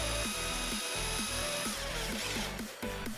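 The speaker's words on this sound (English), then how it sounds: "drill out the 1 3/8 inch Forstner bit for the cup" A 1 3/8 inch Forstner bit in a drill bores a hinge cup hole in a wooden cabinet door, a loud, close whirring with rhythmic pulsing cuts.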